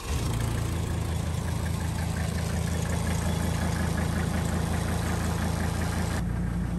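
A diesel wagon engine runs at a steady, loud idle with a continuous rumble and faint knocking texture, dropping off slightly near the end.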